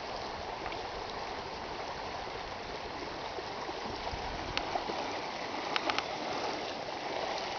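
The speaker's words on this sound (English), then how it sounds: "Oh yeah, it definitely filled up the creek." A creek running high after a flash flood gives a steady, broad rushing wash of water, fairly faint and distant, with a few small splashes and trickles rising briefly near the end.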